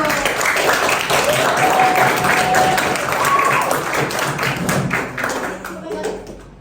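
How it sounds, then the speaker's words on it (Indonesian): Classroom of children clapping for classmates called to the front after a bingo game, a dense burst of applause with chatter mixed in, fading toward the end. "Kita kasih tepuk tangan dulu."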